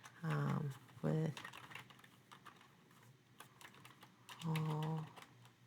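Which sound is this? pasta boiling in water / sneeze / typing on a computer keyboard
typing on a computer keyboard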